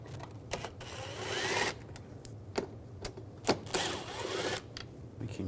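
A Phillips head screwdriver backs out two screws during valve cover removal on a 2004-2009 Audi A4 Quattro 2.0L four-cylinder, with two long squeaky, grinding twisting bursts and scattered sharp clicks nearby, no talking.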